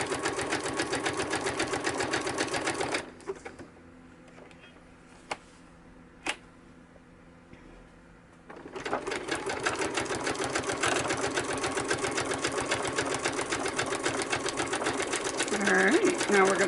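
Sewing machine stitching fabric pieces for ephemera holders, including backstitching, runs loud and steady in two long stretches with a quieter pause between them, while a person talks over it.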